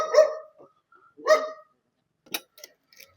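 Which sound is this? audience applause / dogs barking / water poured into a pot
dogs barking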